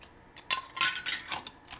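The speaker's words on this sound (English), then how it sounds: "Put the lid on." A lid is put on a jar of mayapple jelly, with several close, sharp clicks and scrapes of metal on glass in uneven bursts and no talking.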